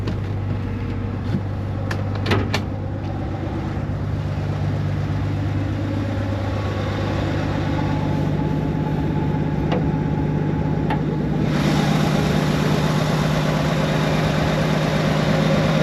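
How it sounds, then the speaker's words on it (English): A 1985 Ford Bronco V8 with an Edelbrock 1406 four-barrel carburetor and rotted-out exhaust idles smoothly and steadily, a close, constant low drone with a few faint clicks early on. "it's just a smooth running engine, has good throttle response"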